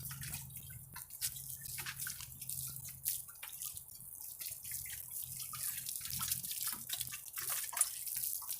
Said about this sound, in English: Give everything a little bit of water.